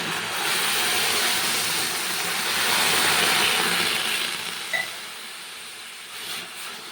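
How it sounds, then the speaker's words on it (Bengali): A loud, hissing sizzle rises as water is poured over fried moong dal in a hot pan. It swells, then eases into a softer simmer near the end, with no talking. "মুগ ডালটা ভাজা হয়ে গেছে এবারে কিন্তু জল দিয়ে"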